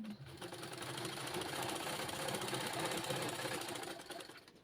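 A sewing machine stitches 1/4 inch elastic onto a child's baby frock, a close, steady rapid mechanical whirr that swells and eases slightly over several seconds without talk.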